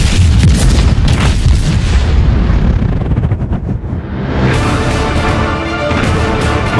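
A USS New Jersey battleship's 16-inch Mark 7 naval gun fires: a very loud, close, deep blast rolls into a sustained thundering rumble that fades briefly, then swells again, with no voices.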